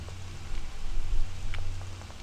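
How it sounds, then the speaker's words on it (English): Steady rain patters over a low background hum, with a few sharper drips standing out; no voices. "It's raining."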